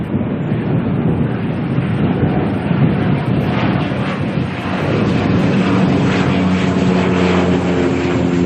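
A Dash 8 turboprop departing Auckland for Gisborne, its propeller drone loud and steady over strong gusting wind that buffets the microphone throughout.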